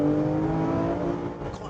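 A Porsche 997 GT3 RS is on the move with a steady engine drone and road roar from inside the cabin, loud and continuous before easing slightly toward the end.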